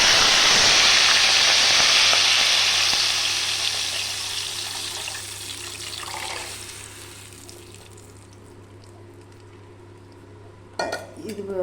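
Tamil Kongu-style rasam is poured into a pan of hot tempering with curry leaves. A loud sizzling hiss fades over several seconds to a quiet simmer, then a short clatter of utensils follows near the end.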